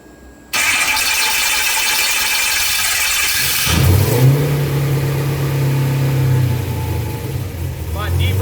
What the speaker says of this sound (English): This truck is going to be a cold start.